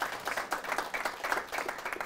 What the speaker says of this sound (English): Crystal Dodera, give her a round of applause